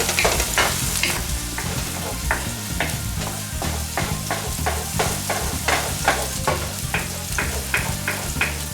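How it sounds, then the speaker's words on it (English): Shrimp and garlic sizzle steadily in a hot pan while a spoon scrapes and stirs in a quick, repeated rhythm, close and continuous with no talking. "Move this around, let it evenly cook, distribute it, and not let it get too overcooked as you're frying this up"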